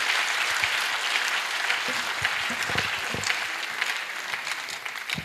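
Sustained applause from a large audience at a birthday public lecture, dense clapping filling the hall for over five seconds with occasional louder individual claps close by.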